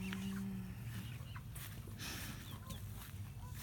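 A newly introduced flock of chickens, mixed with an established flock, clucks and murmurs steadily nearby over constant low background noise, with no one speaking.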